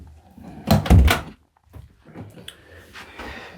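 Interior door of a 2019 ABI Trieste caravan opening, a couple of close wooden clunks and a rattle, followed by quieter handling sounds and faint shuffling.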